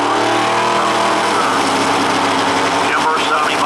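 A drag racing car's engine roars loudly and steadily at a drag strip, a high-pitched sustained drone with a slight shift near the end, while a commentator talks over it.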